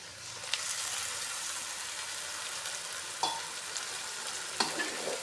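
Tomato paste fries in oil for a chicken curry, giving a steady, bright sizzle with a few sharp spoon or stirring clicks.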